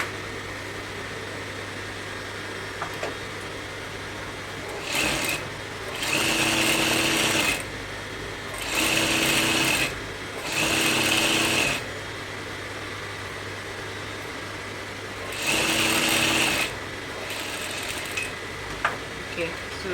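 Close-up, a sewing machine stitches a kimono sleeve in several short whirring runs of a few seconds each, separated by pauses over a faint room hum.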